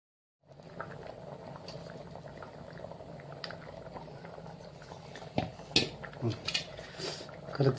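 A pot of fish curry bubbling at a steady boil, continuous soft gurgling and popping close by, with a few louder splashes and clinks near the end as pieces are dropped in.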